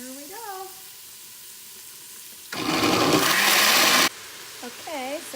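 Ground meat browning in a pan, a sudden loud burst of sizzling for about a second and a half, set between stretches of quieter background with a few squeaky chirping tones before and after.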